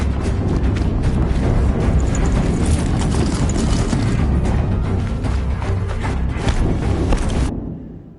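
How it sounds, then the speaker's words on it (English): A heavy Horizon Zero Dawn explosion rumbles loud and sustained with crackling debris, then cuts off sharply near the end, leaving a brief fading tail. "Another explosion."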